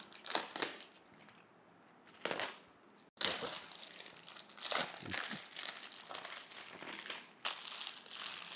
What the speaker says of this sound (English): Packing looks very interesting and nice. Yeah, let's tear it open